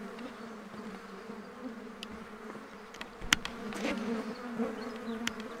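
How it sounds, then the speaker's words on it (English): Flies buzzing around outdoors in the Australian bush, a faint continuous drone with wings passing close at moments, plus a few small clicks and knocks in the background. "wake up before the flies. I don't know if you can hear them."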